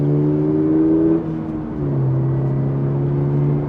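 Inside the cabin of a Toyota GR86, an engine note emulated through the speakers drones low and steady, dips briefly as though shifting gear, then settles back into a smooth hum with no talking.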